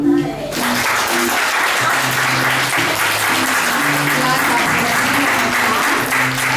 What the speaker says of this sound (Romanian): Vă rog să-i aplaudăm!